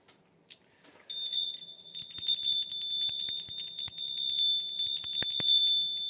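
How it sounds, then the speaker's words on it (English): A bell rings in a meditation setting, entering after a second with sustained, bright overlapping tones and repeated strikes that keep ringing loudly until the end, with no talk over it. "Bell of happiness."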